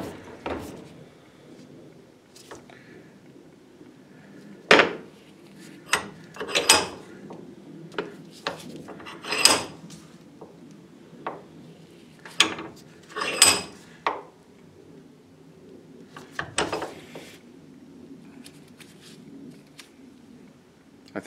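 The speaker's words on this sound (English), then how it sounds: "I think I'll just use the vise and press these in together" A bench vise pressing hinge pins into a Mustang door hinge during a rebuild, heard as scattered sharp metallic clicks, creaks and clanks spread over a low hum, close by, with no talking.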